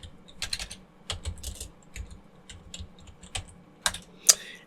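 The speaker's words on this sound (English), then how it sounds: "and then you type in git bisect and then a known good tag, a new good version," Git bisect commands typed on a computer keyboard: quick bursts of crisp key clicks with short pauses between them, close and fairly quiet, ending in a couple of sharper keystrokes.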